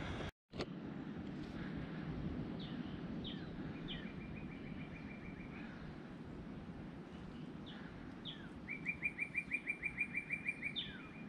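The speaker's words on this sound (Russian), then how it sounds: "птички поют" Birds sing along the Waipi'o Valley hiking trail in Hawaii, with scattered chirps and then a rapid trilled song repeating over steady wind and ambient rumble, no talking.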